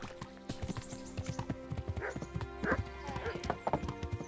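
Horse hooves clip-clopping in irregular steps with a brief whinny in the Kingdom Come: Deliverance video game, set against game ambience with someone talking.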